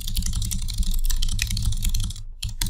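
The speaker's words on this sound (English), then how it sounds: "They're typing up quick." Rapid clacking keystrokes on a computer keyboard pour out in a dense, fast burst, close and loud, with a brief pause near the end before typing resumes.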